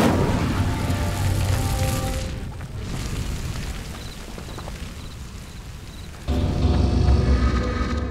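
Incendio fire spell igniting pyres in Hogwarts Legacy, a dense, crackling roar of flame that dips briefly, then surges back with a sudden loud whoosh and keeps burning.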